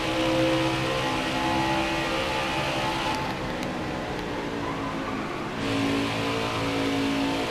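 Race car engines roar steadily in NASCAR Heat 4 during an Xfinity Series race at Pocono Raceway, a continuous droning whine with slight pitch shifts as the pack runs, no talking.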